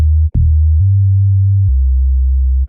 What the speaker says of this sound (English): A very smooth sine wave bass.